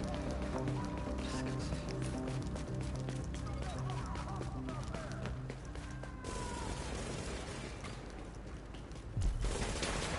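Dense gunfire in the PS4 game The Division with booming blasts from a two-shot sawed-off shotgun amid a busy mix of music and effects, loud and continuous throughout.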